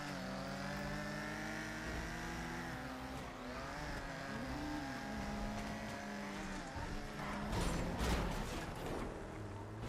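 A car engine revving hard in a GTA 5 street race, a sustained drone rising and falling in pitch with gear changes, other cars and tire noise swelling louder near the end, no talk.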